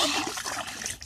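Water from a garden hose splashing and trickling into a small backyard kiddie pool, a brief bright spattering close by with no voices.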